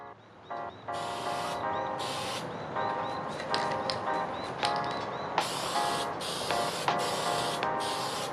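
Aerosol spray paint hisses in repeated short bursts from about 20 cm away as a mechanical keyboard gets light coats, each burst separated by brief pauses with faint clicks and rattles between them.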